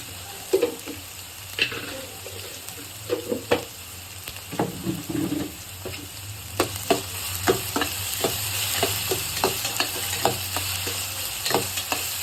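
Onions stir-fried in a pan with chana dal, a steady sizzle under repeated scraping and tapping strokes of a spatula against the pan, fairly close and continuous.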